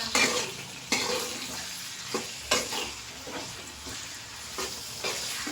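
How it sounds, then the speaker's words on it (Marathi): Tomatoes fry and sizzle in a pan with onions, stirred in repeated scraping strokes, a steady close hiss broken by several louder stirring clatters; no talking. "आता टाकू आपण आपले टमाटर, आणि टमाटरला एकदम नरम चटक होऊ द्यायचंय। टमाटर पण हलवून घ्यायचे।"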